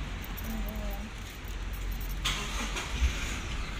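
A Toyota Hilux with keyless start, manual transmission in neutral, makes a start attempt heard faintly in a quiet cab, with a brief click and soft mechanical noises, a short thump near the end and a low background hum.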